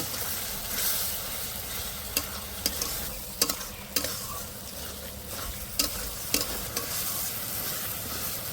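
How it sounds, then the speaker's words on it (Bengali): A masala of turmeric and Kashmiri red chili powder fries in oil in a pan for a desi chicken curry, sizzling steadily while a spoon stirs and scrapes with occasional sharp clicks. "এবার ভালো করে কষে নেব"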